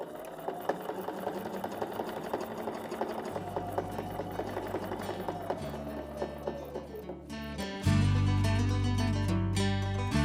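A home sewing machine stitches quilt lines guided by a mini straight line ruler template, running in steady close whirring bursts that pause briefly, then resume louder and faster toward the end.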